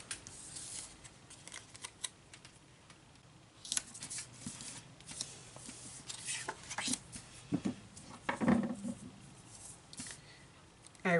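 A big pair of scissors snips through card and paper in short crisp cuts, irregular and close, with faint rustling between them and a person talking over the work.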